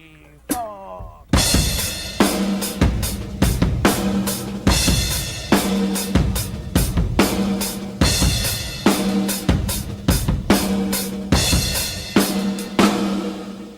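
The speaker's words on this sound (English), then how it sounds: "if we add like a room reverb effect, it'll sound something like this" The same slow, heavy drum groove, now with a room reverb effect that makes the kick and snare hits ring out fuller and more spacious, following a brief count-in and played loud and steady.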